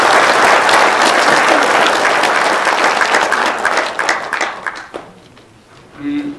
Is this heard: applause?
yes